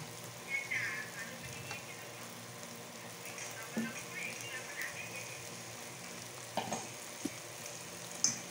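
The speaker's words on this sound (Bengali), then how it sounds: "পনিরগুলো দিয়ে আর একটু কষিয়ে নেব বন্ধুরা" Cubes of paneer fry in a reduced spice masala for an onion paneer dish, giving a soft, steady sizzle with occasional light scrapes and clicks of stirring, fairly quiet and close.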